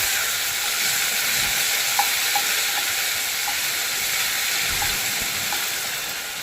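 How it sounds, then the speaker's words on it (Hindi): Garlic, ginger and onion paste fries in hot mustard oil with a loud, steady sizzle and hiss, broken by a few small pops and spatters, close up with no voices. "अब इसका कच्चापन निकलने तक मैं इसको भूनूँगी"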